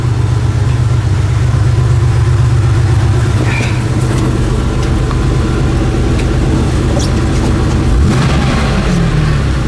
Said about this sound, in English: the sound you're hearing right now is my Porsche